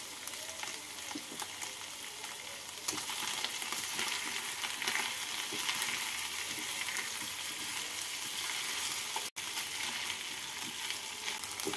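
Potatoes with salt, turmeric and ground black pepper sizzle steadily in a frying pan as they are stirred for jeera aloo, a continuous close hiss broken by occasional scrapes, with no talking.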